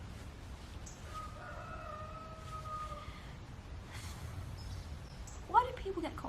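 A cockerel crows at a campsite in the early hours, a single drawn-out call with a few cackling notes near the end, fairly distant and faint against a quiet background.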